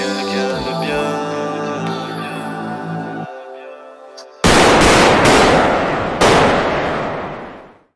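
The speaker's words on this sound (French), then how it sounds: "On a tiré." A burst of loud gunshots fired, coming in as a few sharp, heavy cracks that cut in suddenly after a sustained musical passage and then ring out and fade.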